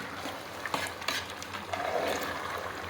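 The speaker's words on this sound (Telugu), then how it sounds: "చికెన్ వేసి మసాలా అంతా పట్టేట్టు పూర్తి కలపాలండి." Chicken is stirred with masala, ginger-garlic paste and fried onions in a pot for a chicken aloo korma, making soft scraping and wet clacking sounds with a faint sizzle, fairly quiet.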